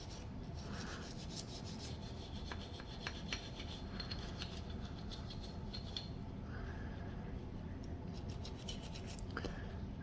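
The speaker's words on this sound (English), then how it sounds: "we're just going to scrub everything, every visible surface, the rails, very important" A brush scrubs the rails and surfaces of a Glock 19 Gen 5 pistol, making continuous quiet close-up bristle rasping with rhythmic strokes throughout.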